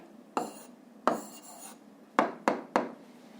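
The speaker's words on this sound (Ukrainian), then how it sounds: "а зараз записуємо відповідь, пишемо відповідь" A pen writes the answer to a school physics problem by hand, giving several short scratchy strokes in quick bursts, close and fairly quiet, with no voices.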